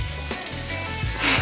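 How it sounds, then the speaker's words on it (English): Mushrooms sautéing in red wine with salt and pepper in a pan aboard a sailboat bound for Catalina Island, a steady close sizzle and hiss throughout, growing briefly louder at the end. "All they were is sauteed in some red wine and a little salt and pepper."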